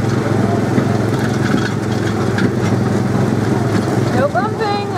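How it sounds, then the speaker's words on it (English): Small petrol go-kart engines on the Tomorrowland Speedway ride at Magic Kingdom, a loud close rattling putter that runs steadily, with a voice talking over it near the end. "if you're ever wondering if they actually have petrol engines in them, they really do"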